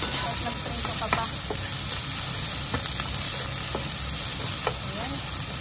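Chicken pieces sizzle steadily in a hot frying pan, a dish for creamy chicken with mushrooms and broccoli, with a few sharp clicks of utensils stirring against the pan.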